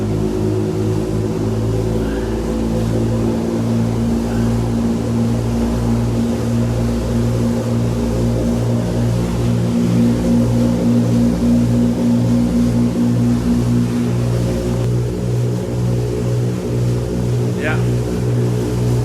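A steady, loud engine of a Bertram 35 motorboat underway at about 1700 RPM drones throughout with a deep rhythmic throb and continuous water rush.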